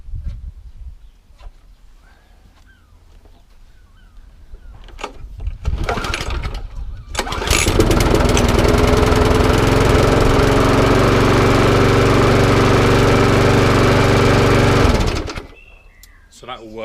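A Mountfield lawn mower with a Briggs and Stratton engine is pulled over, catches and runs at a loud, steady roar for several seconds before cutting out, with a person talking before it starts.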